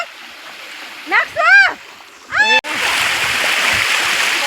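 Water gushes into a borewell pond as a loud, steady close rush, preceded by a few short shouted voices that stop abruptly.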